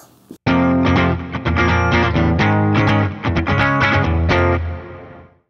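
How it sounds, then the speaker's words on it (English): Electric guitar, distorted and drenched in reverb, rings out loud and sustained for about five seconds as chords, with a short pick noise before the first strum and a long fading tail. "Okay, let's add reverb."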